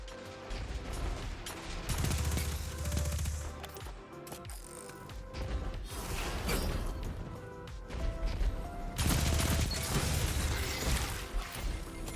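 Gunfire in the Destiny video game, a dense, continuous barrage of shots, impacts and mechanical clatter from a match, loud and sustained throughout.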